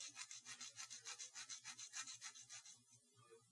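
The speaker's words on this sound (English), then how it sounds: "So I'm going to keep sanding this" An emery board rasps along a pressure-treated bamboo meat skewer being shaped into a fiber needle, in about fourteen quick, even back-and-forth strokes before it stops; close and fairly quiet, with no voices.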